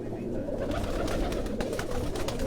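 Soft, steady cooing of pigeons in Quetta fills the clip, a continuous low murmur of several birds close by with no one speaking.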